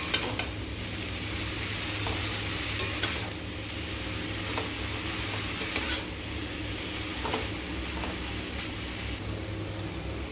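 Tomato and spinach curry is stirred in a hot pan, a continuous soft sizzle broken by repeated sharp scrapes and clinks of the spatula against the metal.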